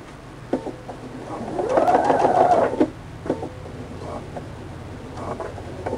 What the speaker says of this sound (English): So I'm going to sew right there.